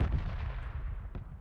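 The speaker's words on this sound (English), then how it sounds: "The red zone explosions are nearby." Dull, booming red zone bombardment explosions in PUBG rumble continuously at a distance, with a couple of sharper bursts near the end; no talking.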